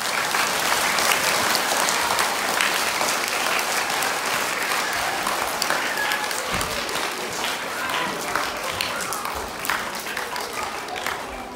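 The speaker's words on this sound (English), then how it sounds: "I think we need to give him a big clap" A school family-time gathering gives a boy a big round of applause, dense and steady clapping from the whole audience filling the room for over ten seconds.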